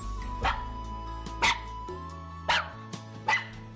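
A dog gives four short, sharp barks or yips at even intervals over a low steady hum in a radio drama setting.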